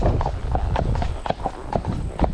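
A horse trots with a steady, even clip-clop of hooves close by, the quick rhythmic footfalls running throughout over a low rumbling background.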